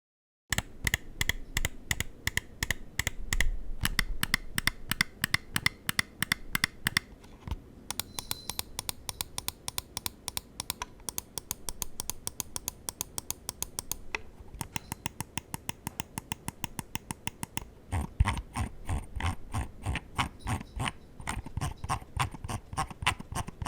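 Roccat Kone Pro Air mouse buttons, with optical Titan switches, click in rapid sharp bursts for over twenty seconds, sometimes fast and steady, sometimes in short pauses, close and crisp with no talking.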